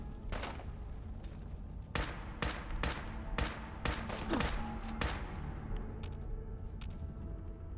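Rapid gunfire bursts in the video game Fallout 4, a fusillade of sharp shots clustered through the middle of the passage, loud and close over a constant low rumble of battle.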